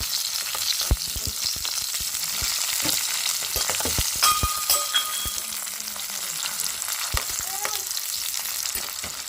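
Hot oil sizzles steadily as peanuts and lentils fry, with scattered pops and occasional clicks of a utensil stirring nearby.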